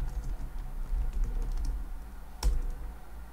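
A password typed on a computer keyboard while logging in to a Debian 9 server, a soft run of close key taps with one louder keystroke near the end over a low room hum.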